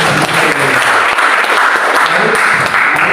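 Loud, sustained applause from a church congregation during a worship service in an apartment, dense clapping filling the whole moment without a break.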